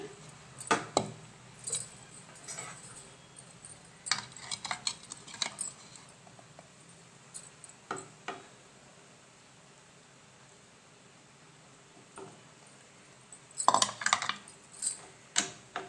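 Carrot halwa with ghee being stirred in a pan, giving scattered scraping and clinking touches of a spoon against metal at an even, unhurried pace, with quiet stretches between strokes and a busier burst near the end.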